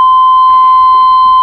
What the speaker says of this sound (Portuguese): Tá tocando o alarme.